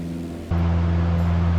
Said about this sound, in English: I am going to reduce the volume on which the engine sound plays